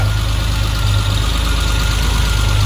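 A rebuilt Triumph TR car engine idles steadily and evenly with a continuous low rumble and faint mechanical ticking, close by and alone.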